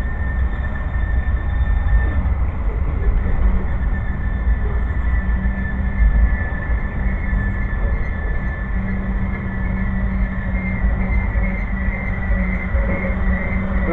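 A train rolls past in a continuous rumble, loud and even, with a faint steady whine riding above the low roar and no voices.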